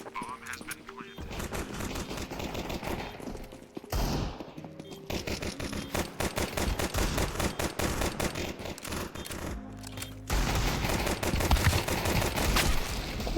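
Rapid gunfire from a revolver set to burst in a team shooter game, dense cracking volleys running almost nonstop with a brief gap, loud and close, with players talking over it.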